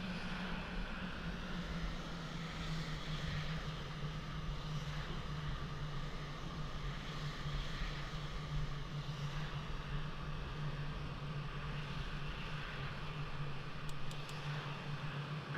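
A jet aircraft engine drones steadily and evenly while taxiing onto the runway in the Falcon 4 Allied Force flight simulator, a constant low hum with no talking.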